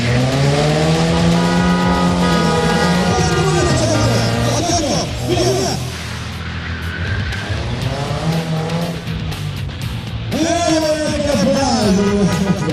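Stunt cars performing acrobatics at a motor show, with loud sustained tire squeals and skidding over revving engines, a brief lull midway, then more screeching, crowd and announcer sounds faintly beneath.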